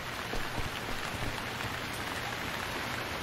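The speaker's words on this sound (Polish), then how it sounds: "Nie mówcie, że deszcz znowu." Steady rain pours in the video game Stranded Deep, a continuous dense hiss of drops on surfaces with no voices over it.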